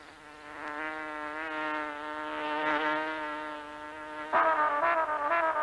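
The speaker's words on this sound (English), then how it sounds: "The huge bee and the yellow flower sat in a deck chair in the garden and kept on buzzing" A huge bee buzzes in a garden in a 1985 children's TV programme, a steady droning hum that swells and grows louder near the end, heard alone.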